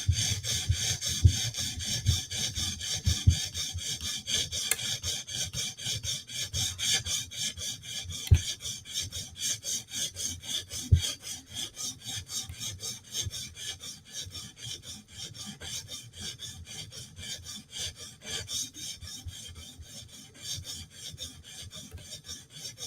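A blade being sharpened to raise a burr out to the tip, steady rhythmic rasping strokes repeating close up, alone with no talk.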